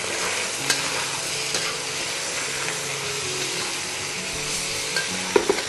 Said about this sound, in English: I'm gonna give it a quick stir.